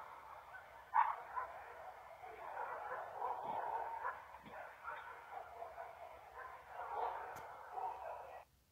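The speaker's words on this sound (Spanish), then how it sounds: "ahí los perros empiezan a ladrar" Several dogs barking in the distance near the Popocatépetl volcano in Mexico after an explosion, a scattered, continuous chorus of yaps and woofs with a voice speaking faintly beneath.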